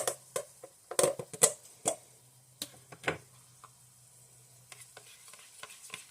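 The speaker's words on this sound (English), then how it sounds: "just gotta stir it up really good because it gets kind of watery" A spoon stirs a tablespoon of sour cream into burrito filling, giving soft wet scraping and clicking strokes in uneven bursts, close and fairly quiet, easing off toward the end.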